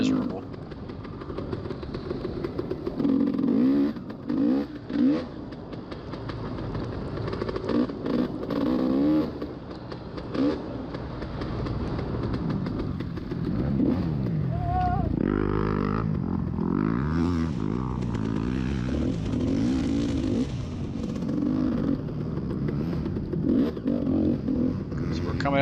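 Off-road motorcycle engine on a race lap of an old-bike cross-country event, a continuous mid-range drone rising and falling with throttle, loud and close throughout, with a rider talking over it.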